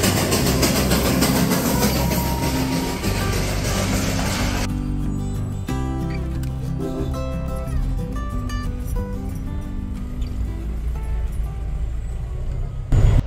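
The Darjeeling toy train passes close by with a loud, continuous engine roar and rumble, rhythmic clickety-clack of wheels on the narrow-gauge track, and the noise easing slightly partway through.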